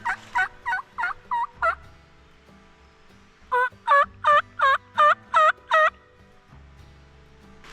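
A wild turkey gobbles during a spring hunt, several rattling gobbles in two bursts, clear and moderately distant over a quiet outdoor background with no talking.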